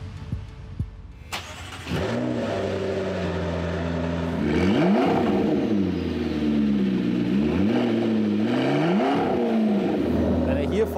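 A McLaren 3.8 litre V8 mid-engine cranks briefly, catches and settles into a loud, steady idle, then gets three sharp revs that rise and fall in pitch.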